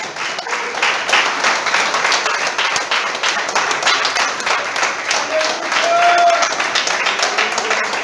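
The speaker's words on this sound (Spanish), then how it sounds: "Aplaudan, querido. Aplaudan." A church congregation applauds steadily throughout, a dense wash of clapping with a few voices mixed in.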